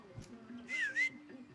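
Whistling from a character in the video game Far Cry 6, a short rising-and-falling two-note whistle heard clearly once over quiet background hum and faint ambient sound.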